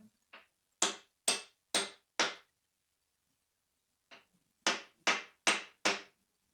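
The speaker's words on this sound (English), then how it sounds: "Try to whack that down a couple more times." A brass ball peen hammer is struck in two sharp, ringing runs of about five blows each, separated by a short pause, close and clear with no talk.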